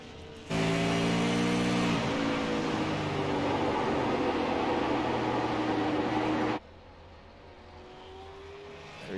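A race car engine roars loud and steady as it comes out of turn four on a timed qualifying lap at the USA Super 50. The drone holds for about six seconds, then cuts off abruptly, leaving faint background noise.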